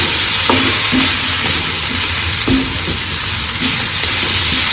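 Masala with mushroom roasts loudly on a hot tawa over high gas, with a dense, constant sizzle and occasional stirring scrapes near the pan.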